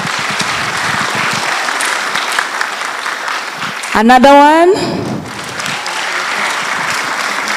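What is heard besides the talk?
warm round of audience applause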